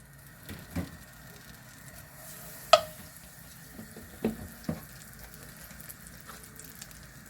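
Butter melting in a pan for Chinese-style chicken, giving a soft, low sizzle with a few faint utensil taps and clicks, close and quiet throughout.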